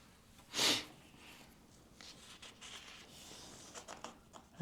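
A person who is sick gives a single sharp, close nasal sniff near the start, followed by quiet room tone with soft rustling and faint handling noises.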